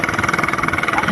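Motorcycle engine idling and running steadily with a pulsing mid-range drone, close and fairly loud, on a narrow barangay road just wide enough for one motorcycle.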